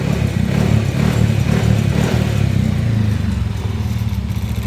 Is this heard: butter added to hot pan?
no